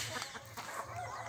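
Chickens roaming loose outdoors, with soft clucking from a nearby hen over a low background hum and no voices.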